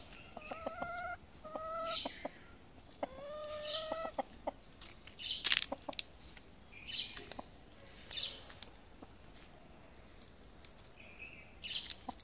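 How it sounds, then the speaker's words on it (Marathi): Several backyard hens cluck and squawk as they are let out of their coop at a home garden, with bursts of calls rising and falling against a quiet outdoor background. "आता इथे कोंबड्या बाहेर येण्याची वाट बघत आहेत."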